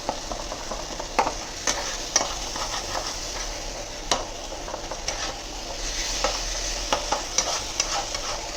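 Spices and bay leaves fry in a pan while being stirred, giving a continuous close sizzle broken by frequent sharp scraping clicks of the utensil against the pan.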